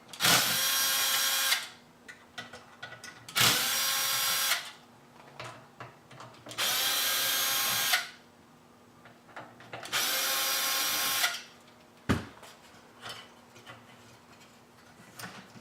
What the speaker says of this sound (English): there's just 4 Phillips screws that hold this booster in there. So you just take them out.